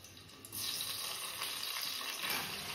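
Potatoes hit hot oil seasoned with turmeric and salt and set off a loud, steady hiss and sizzle that begins abruptly and holds on, close and even, with no voices.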